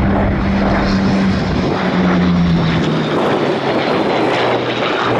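A vintage racer propeller plane flies past at a 2023 airshow with a loud, rough engine roar, close and continuous, its pitch slowly sliding lower as it passes.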